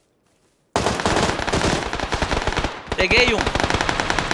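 Sustained automatic gunfire in the video game PUBG, a fast, loud, steady rattle of shots starting abruptly after a moment of silence, with a short spoken remark over it.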